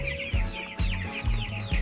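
Chickens clucking up close, a handful of short, loud, rhythmic clucks in quick succession with a faint rooster-like call behind them, and no talking.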